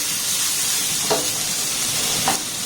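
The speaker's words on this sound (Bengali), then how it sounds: "টমেটোটাকে দিয়ে একটু নাড়াচাড়া করে নেবো" Chopped tomato being stirred into fried ingredients in a pan, giving a steady hissing sizzle throughout with two brief scraping strokes of the spoon, close and fairly loud.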